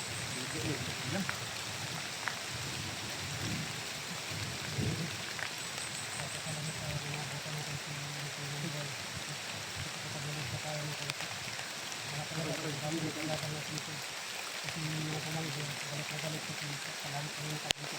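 Steady rain patters across the whole stretch, a constant hiss of drops with people talking faintly underneath.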